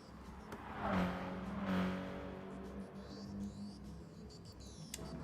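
Race car engine in a racing video game on the Sardegna road track, revving steadily with a rising whine, then a string of sharp crackles and pops near the end, fairly loud and close with no talk.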